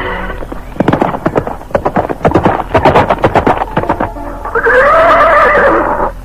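Hooves clatter in a quick close run of sharp beats, then a horse gives a loud, wavering neigh as the rider reaches the foot of a mountain in a radio drama scene.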